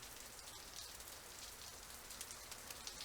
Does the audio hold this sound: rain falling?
yes